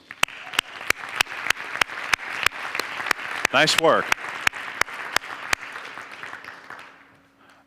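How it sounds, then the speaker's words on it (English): An audience claps for presenters at the results session of a speed-of-implementation contest. Sharp, evenly spaced claps ring out, a voice speaks briefly in the middle, and the clapping thins toward the end. "Round of applause for these folks."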